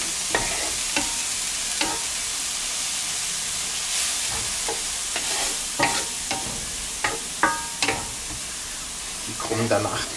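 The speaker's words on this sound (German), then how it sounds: "Ich brauche hier jetzt ruckzuck noch ein bisschen Butterschmalz. So, wieder ein Becher leer. Rösten wir einmal nämlich die Zwiebelchen an." Onions roasting in clarified butter in a pan, a continuous sizzle punctuated by frequent sharp stirring scrapes and crackles, close and fairly loud.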